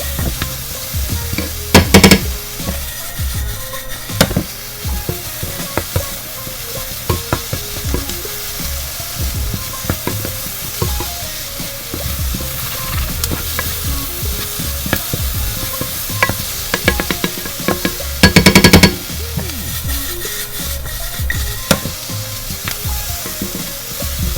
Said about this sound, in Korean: 고춧가루 어, 타지 않게 잘 볶아주셔야 되고 참기름 조금씩 넣으시면서